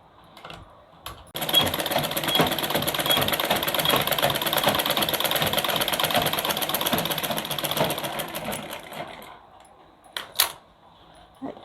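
Sewing machine running a long continuous straight seam on a collared blouse, a steady rapid mechanical whir lasting several seconds, then stopping, followed by a couple of short clicks and handling sounds.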